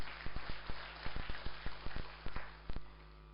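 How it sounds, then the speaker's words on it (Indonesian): A church congregation's applause at a live-streamed service comes through as a faint, compressed rhythm of regular sharp claps, about a dozen evenly spaced beats over a steady low hum. "Berikan tepuk tangan yang meriah."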